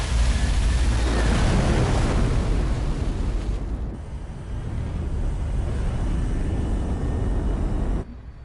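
A loud, rushing airplane drone passes overhead in a game, a broad roar that dips briefly midway and then continues before cutting off sharply near the end.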